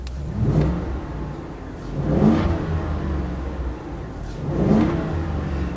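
A 2024 Ford Super Duty's 7.3L gas V8 revs three times in a row, each blip rising and falling back to a rumbling idle, close and fairly loud.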